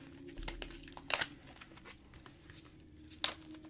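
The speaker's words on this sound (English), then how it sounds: "This soft plastic here, I can just rip." Soft plastic crinkles and tears in a few quick bursts, close and fairly quiet, with a sharper rip near the start and another later.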